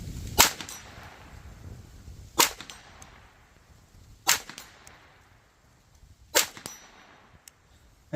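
Four sharp .22LR pistol shots from a Taurus TX22 at an outdoor range, each followed by a faint metallic ring from distant swinging steel targets at 50 and 75 yards, spaced roughly two seconds apart with no talk.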